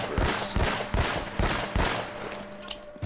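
Sniper gunfire in the Uncharted: Nathan Drake Collection game, a series of sharp, loud shots in a steady rhythm, about five or six cracks with brief echoing tails, no talking.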